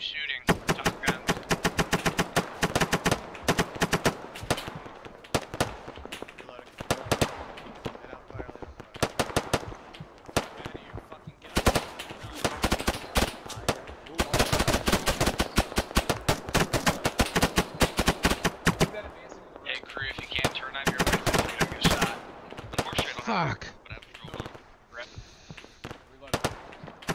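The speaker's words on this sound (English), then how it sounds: "Set up a base of fire and keep shooting." Sustained gunfire in an ArmA 3 night mission clearing a town, with dense, continuous bursts of automatic fire and scattered single shots, loud and almost unbroken throughout.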